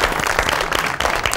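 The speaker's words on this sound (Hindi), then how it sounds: "बहुत सारी तालियां मेरे भाई के लिए।" Studio audience on a television talk show applauding, a loud continuous burst of many hands clapping with no speech over it.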